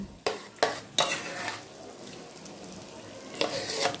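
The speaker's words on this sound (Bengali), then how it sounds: "এবার আমি ফেটিয়ে রাখা টক দইটা দিয়ে দিচ্ছি।" Beaten sour curd goes into chicken frying in released oil for a dhaba-style chicken masala, followed by close spoon scrapes and stirring over a low steady sizzle, with a few sharp strokes at the start and near the end.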